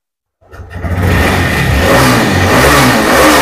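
A TVS Raider motorcycle engine starts up close by and revs hard, its loud rough roar rising quickly and holding steady to the end.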